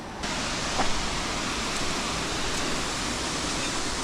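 A waterfall near a steep, unpaved road at Nagtipunan, Quirino, a dense, steady roar of rushing water that is loud and unbroken for the whole stretch, with no talking.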